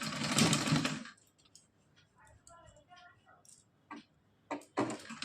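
A sewing machine runs a doubled line of stitching along the edge of net and lace fabric, whirring in a loud burst at the start and again briefly near the end, with soft talking in the quiet gap between.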